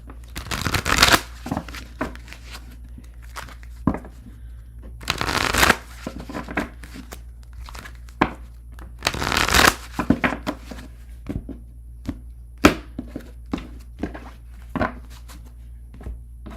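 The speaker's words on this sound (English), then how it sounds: "I'm going to shuffle and we'll move on to Taurus while I read the comments" Tarot cards being shuffled repeatedly close up, with several bursts of riffling and scattered soft taps and flicks over a low steady background hum.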